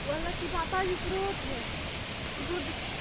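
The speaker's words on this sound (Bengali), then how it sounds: "আজকে এত ঝড় যে কোথা থেকে আসলো বুঝতেছি না" Strong storm wind roars as a steady, dense broadband rush close to the microphone, with a few faint tonal calls or whistles briefly poking through early on.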